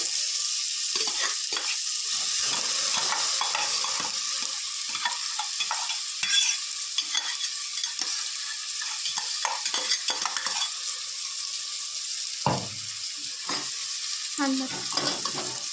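Chillies, ginger, garlic, mint and coriander cook in a pan with a steady close sizzle, broken by repeated scraping stir strokes throughout. No one speaks.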